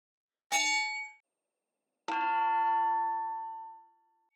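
Osight XR enclosed red dot optic with RMR footprint dropped onto a hard surface, giving two separate loud metallic clangs, the first short and the second ringing out for about two seconds.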